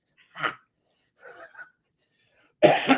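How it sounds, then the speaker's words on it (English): Three short coughs come close to the mic, separated by silence, the last one loudest and harshest. "Cough. That was great."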